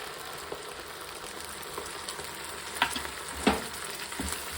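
Ground masala frying in a pan for Mangalore-style prawn ghee roast, a steady close sizzle with a few sharper crackling pops near the end, no voices.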